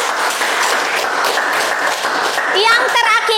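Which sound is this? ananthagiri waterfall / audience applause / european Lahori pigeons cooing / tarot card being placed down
audience applause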